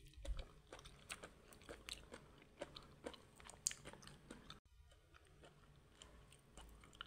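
Crunchy steamed vegetables with talbos (greens) being bitten and chewed close up, a run of crisp, irregular crunches and mouth sounds with short pauses, no talking.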